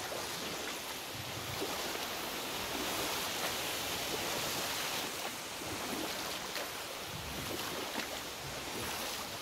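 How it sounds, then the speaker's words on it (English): A waterfall in the God of War video game pours out a constant, broad rushing roar that holds steady throughout, loud and without breaks, with no one talking over it. "Waterfall. Sure is beautiful."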